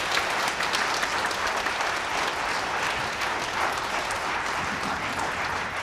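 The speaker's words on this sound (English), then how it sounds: "One more round of applause." A high school choir audience at a spring concert gives a steady round of applause, dense and sustained clapping from a full crowd that holds at an even level throughout without any talk.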